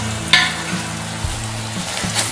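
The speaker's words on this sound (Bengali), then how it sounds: "পেঁয়াজ দেখুন ভাজা হয়ে এসেছে।" Onions fry in a pan for mutton masala, a steady close sizzle with a few clinks and stirring scrapes, and music running beneath.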